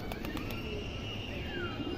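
Low, faint cooing from silver bezi pigeons, with a few quick sharp taps at the start and a thin whistling tone drifting over the steady murmur.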